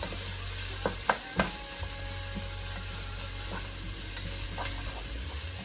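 Onions frying in sunflower oil make a steady, even sizzle, with a few sharp utensil taps early on, close and moderately loud, no talking.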